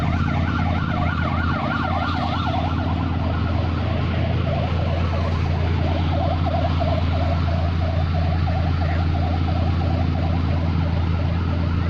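Ambulance and rescue vehicle sirens wail in a steady repeating warble while the vehicles arrive at a storm scene in Mae Sai, Thailand. A constant low engine and road rumble runs loudly beneath the sirens throughout.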